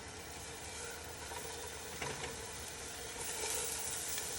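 Meatballs browning in about a teaspoon of olive oil in a pan give off a steady, close sizzle that holds evenly throughout, with no voices over it.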